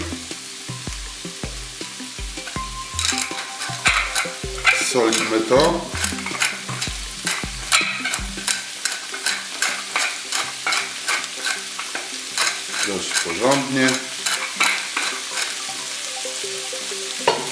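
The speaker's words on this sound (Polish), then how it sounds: "nasze mięso po prostu porządnie się obsmaży" Minced meat for chili con carne sizzles in a hot pan over raised heat while a spoon scrapes and stirs it in repeated strokes; a person speaks briefly over the cooking.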